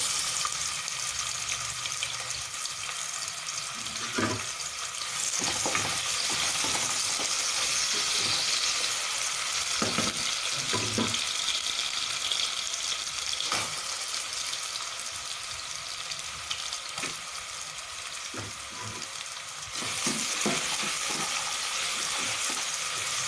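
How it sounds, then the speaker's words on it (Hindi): Onions frying together in hot oil for fish biryani, a steady broadband sizzle running the whole time with occasional clinks and stirring scrapes, close and fairly loud, with no talking. "अब हम अपनी सारी प्याज जो है वो एक साथ फ्राई कर लेंगे"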